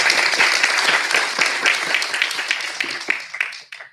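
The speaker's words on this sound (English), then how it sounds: "Round of applause, please." An audience applauds a panelist at an anniversary panel event. The applause is dense and sustained, then thins into scattered claps and fades out near the end.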